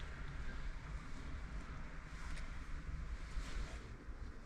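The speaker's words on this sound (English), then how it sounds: "We could move camp up here tonight, Fran, if that wind doesn't die off" Steady wind blows and rushes outside an Arctic cave, a continuous loud roar with gusts and some buffeting on the microphone, with no voices heard.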